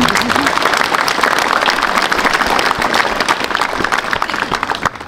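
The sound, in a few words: audience applauding civil protection and Red Cross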